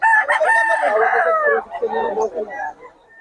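A rooster crows loudly and close, a long drawn-out call followed by clucking and softer fowl sounds, with faint voices in the background.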